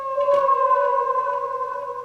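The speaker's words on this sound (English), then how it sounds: "this little guitar hit that I got, and I just added some delay to it" A guitar hit sample treated with delay for a Pro Tools beat, holding steady sustained tones with echoing repeats that ring on throughout, loud and alone without any talk.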